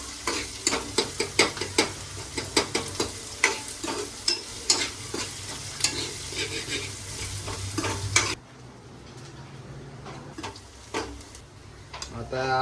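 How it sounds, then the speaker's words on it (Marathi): Chopped onion and chillies sizzle and are stirred in a hot pan, with steady frying hiss and repeated spoon scrapes for about eight seconds before the sound drops to a quieter simmer with occasional stirs. "यामध्ये आपला चिरलेला कांदा सगळं ऍड करू. चांगला परतवून घेऊ लाल होईपर्यंत."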